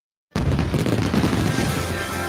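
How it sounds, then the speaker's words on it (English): A fireworks explosion used as a sound effect in a radio ad: a single sudden, loud boom after a brief silence, then a dense crackling rumble that slowly fades. "Fireworks season is here."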